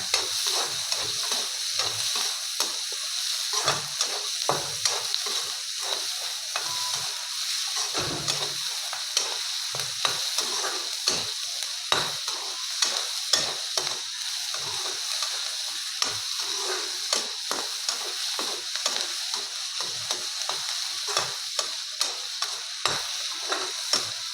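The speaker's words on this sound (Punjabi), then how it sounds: "ਤੇ ਪਿਆਜ਼ ਨੂੰ ਵੀ ਹਲਕਾ ਜਿਹਾ ਭੁੰਨ ਲਾਂਗੇ" Onion lightly frying in a pan for pasta, a constant soft sizzle broken by frequent quick scrapes and clicks from stirring, steady and close throughout.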